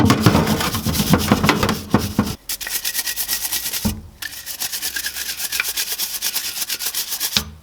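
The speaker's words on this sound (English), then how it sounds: "give it a quick scrub" Stiff brush scrubbing grease off Polygon Siskiu T7 bicycle parts during degreasing, a steady close rasping rub with short pauses near 2.4 and 4 seconds, no voices.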